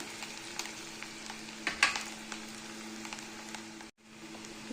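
Garlic, green chili, cumin and mustard seeds fry and sizzle in a pan for a Khandeshi eggplant and potato dish, a steady soft crackle with a brief louder burst of spattering midway.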